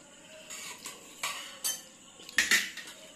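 Boiled potatoes mashed in a bowl, several separate clinking and scraping strokes of a utensil against the dish, close and fairly quiet.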